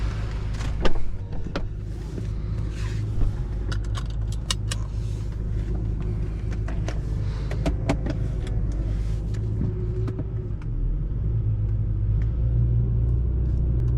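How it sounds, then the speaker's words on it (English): BMW F10 M5 idling with a new aftermarket exhaust and valves open, a steady deep low rumble under faint interior clicks and rattles, with a brief louder thump near the start. "Notice when the car's just idling with the valves open, the tone hasn't really changed all that much."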